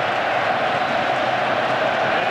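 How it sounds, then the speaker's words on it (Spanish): Stadium crowd at a Real Madrid versus Deportivo football match giving a sustained ovation, a dense, steady roar of applause and cheering heard from within the stands. "Atención a la ovación que tributa el público a Laudrup."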